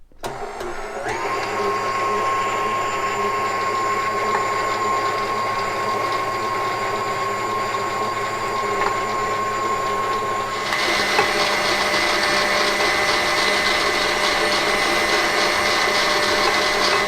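Electric mixer running in a kitchen, beating egg yolks and sugar for eggnog: a steady mechanical whir held for about ten seconds, then shifting to a louder, brighter buzz as the speed changes.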